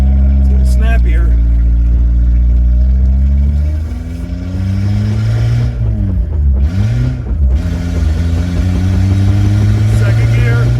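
A Toyota Tercel 4WD wagon with a 4A-C engine accelerates hard, its loud, close engine note climbing steadily in pitch, dropping briefly at a gear change, then rising again.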